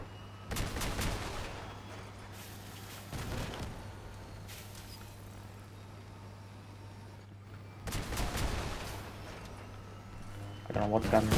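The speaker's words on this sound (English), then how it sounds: "Don't know what guns those are" Weapons firing in the vehicle combat game Crossout, with bursts of rapid gunfire around the start, at about three seconds, near eight seconds and at the end, separated by a steady engine drone while a player talks.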